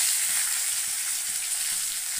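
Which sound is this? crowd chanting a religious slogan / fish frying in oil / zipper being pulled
fish frying in oil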